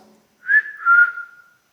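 A single person whistles two short rising-and-falling notes, clear and close, in an otherwise quiet space.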